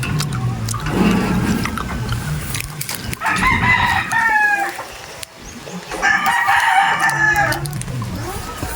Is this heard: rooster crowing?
yes